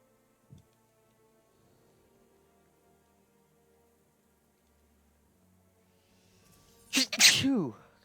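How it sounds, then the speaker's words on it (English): A single loud, close sneeze bursts out near the end after long near-silence, with only a faint click early on. "I keep saying excuse me when I sneeze."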